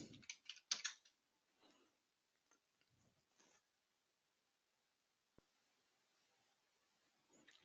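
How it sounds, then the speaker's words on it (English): A few quick bursts of typing on a computer keyboard, clustered clicks near the start that fade to near silence, with one faint isolated tap later and another at the very end; quiet and close. "See if we can get this keyboard to cooperate."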